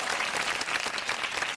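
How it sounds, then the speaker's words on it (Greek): Applause breaks out in the middle of a cooking demonstration of carob buns, with dense steady clapping for about a second and a half before cutting off abruptly. "Χειροκρότημα."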